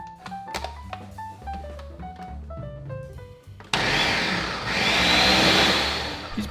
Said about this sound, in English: it's time to blend.